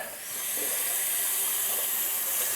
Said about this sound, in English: I'm going to turn the water on now.